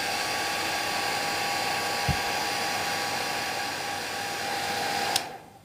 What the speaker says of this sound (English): Let me speed up a wee bit, just use the hairdryer.